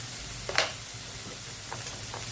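Fenugreek greens frying in oil, a soft steady sizzle with a couple of brief clinks of a stirring spoon against the pan, quiet and close with no talking.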